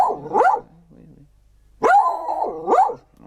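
A dog barks and growls in two bursts, loud and close, with a quiet gap between them.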